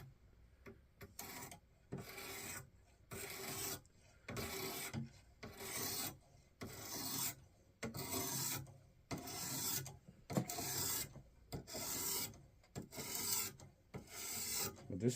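A field knife being sharpened on a Wasabi-type stone sharpener makes faint, close rasping strokes that repeat in a steady back-and-forth rhythm, each scrape separated by a brief pause.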